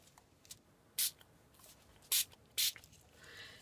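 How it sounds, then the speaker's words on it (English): Spray paint can hissing over a mixed media art piece in three short, loud bursts with gaps between them, sputtering unevenly rather than in a smooth stream. "my spray came out like crescent moons instead of round"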